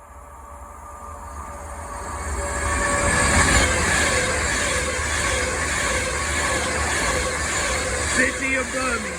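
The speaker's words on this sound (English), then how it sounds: "our final train of the day is going to be an Avanti West Coast service going from London Euston to Liverpool Lime" Avanti West Coast passenger train running from London Euston to Liverpool Lime Street on the West Coast Main Line at Atherstone, with a broad rumble that swells as it passes close by and stays loud, with faint rail squeals near the end.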